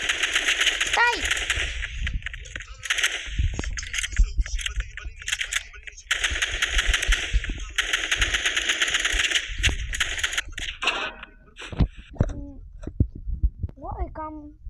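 Rapid bursts of pistol gunfire from a video game, the gun fitted with a cosmetic skin, crackle loudly in repeated volleys under ongoing chatter and game sounds.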